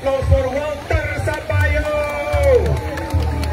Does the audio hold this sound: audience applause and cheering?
yes